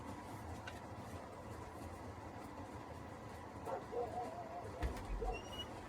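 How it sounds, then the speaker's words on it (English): Indoor dog at a distance giving a few short, faint barks and whimpers over a low background hum, with slightly louder yips clustered near the end. "Let me quiet this dog down here."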